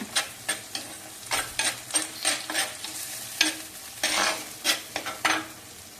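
Onions sautéing in a pan with water added, a steady sizzle broken by repeated scraping stirs of a spoon against the metal, close and fairly loud with no voices.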